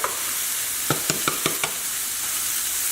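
Garlic and shallots frying in a pan over a medium-low flame, a steady broadband sizzle with a few sharp scraping stirs clustered in the middle.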